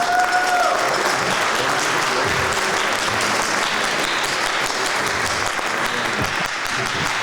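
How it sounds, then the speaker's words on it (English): A room full of people at a high school jazz night claps steadily, a dense, sustained round of applause that continues throughout. "So a big round of applause to everybody, especially to Keith."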